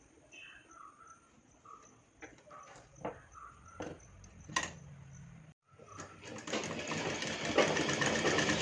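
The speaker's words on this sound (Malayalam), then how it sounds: "അപ്പോൾ നമുക്കിത് സ്റ്റിച്ച് ചെയ്തെടുക്കാം." A sewing machine stitches a puff sleeve seam, starting with short bursts and then running steadily and loudly with a continuous whirring hum toward the end.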